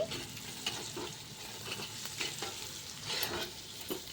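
Amaranth stalks fry in a pan for a pachadi while a spoon stirs them, producing a continuous low sizzle with repeated scraping strokes at an uneven rhythm, close by and without talk.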